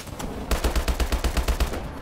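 Automatic gunfire in the Call of Duty: Advanced Warfare video game, a rapid even burst of about ten close shots following a few scattered earlier ones.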